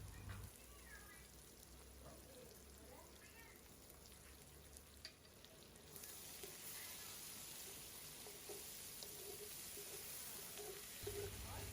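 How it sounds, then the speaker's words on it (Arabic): Onions and garlic sizzle and fry in a pan while being stirred, a steady close crackling hiss that runs throughout with soft scraping movements and a low background hum, with no talking. "ونقلب البصل مع التوم"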